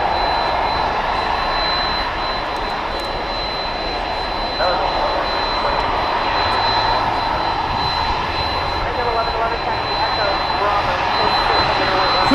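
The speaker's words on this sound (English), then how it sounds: "an Airbus A320." An Airbus A320 jet at DFW Airport at night, its engines producing a loud, continuous roar that holds steady throughout, with a constant high whine riding on top.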